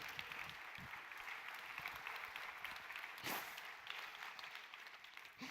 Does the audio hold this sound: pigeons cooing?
no